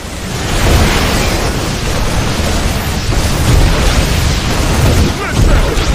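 A loud, dense rumble of explosions and battle noise from a StarCraft II match fills the whole stretch, with swelling booms near the start, middle and end; game voices sound over it.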